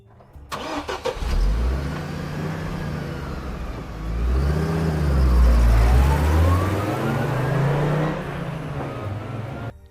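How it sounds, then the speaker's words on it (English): A car engine cranks and starts as a sound effect in a horror audio story, then revs and drones steadily as the car pulls away and drives off, with a low rising and falling hum throughout. "And then he started his car and drove."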